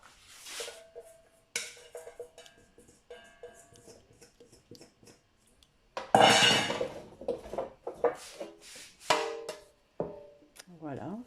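Vegetables stirred in an air fryer drawer make intermittent clattering and rattling, mostly soft at first, then louder clinking bursts of utensil against the metal drawer midway through.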